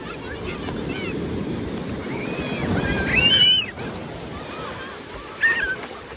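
Steady roar of surf and wind noise throughout at Dinggalan beach, with large waves swelling and crashing nearby; bird-like chirps or distant voices rise briefly above it.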